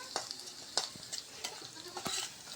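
Green chilies and onions fry in hot oil for mashed potatoes, giving a steady close sizzle broken by several sharp stirring scrapes and spatters.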